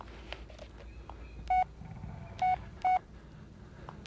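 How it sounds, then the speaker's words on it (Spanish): Telephone dialing tones in the Blair Witch video game, three distinct keypad beeps spaced about a second apart over a faint rustling game background. "Teléfono."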